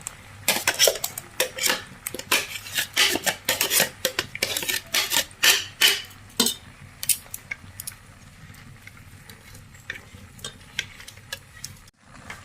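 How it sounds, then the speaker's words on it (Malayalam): Roasted ground coconut being added to a cooking pot brings a quick run of metal clinks and clatters from a spoon against the pot, loud and close, thinning to sparse taps toward the end. "നമുക്കിനി വറുത്തരച്ച് വെച്ചിട്ടുള്ള തേങ്ങ നമുക്ക് ഇതിലോട്ട് ചേർക്കാം"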